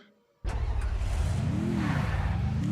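A Lamborghini in the game Free Fire pulls away with a sudden loud engine roar that rises and falls in pitch as it accelerates, close and continuous after a quiet start.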